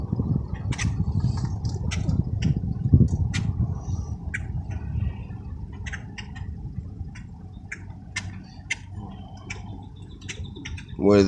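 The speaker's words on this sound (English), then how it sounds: "We're gonna do some bird watching here, you guys." Birds calling outdoors, with short chirps and tweets scattered irregularly, some nearer and some distant, over a steady low rumble of background noise.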